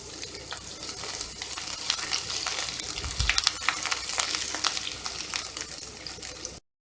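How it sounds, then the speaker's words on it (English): Onions sauté in a pot, a steady close-up sizzle with small crackles and a brief stir partway through, no talking. "I want it to smell like some onions being sauteed."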